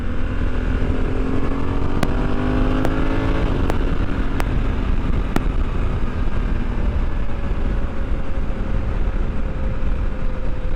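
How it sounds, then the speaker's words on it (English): A 2021 Africa Twin Adventure Sports ES DCT motorcycle engine with stock cam drones steadily while riding on a highway, with a low rumbling exhaust and brief pitch shifts as it shifts gears, loud and close throughout. "It's got a great sound on the engine as well"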